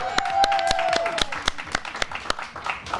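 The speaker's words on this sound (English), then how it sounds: "Audience, let's give a great clap to..." Scattered audience applause on a music talk show, a handful of separate sharp claps spaced out over a few seconds alongside a sustained tone that fades, fairly close and moderately loud.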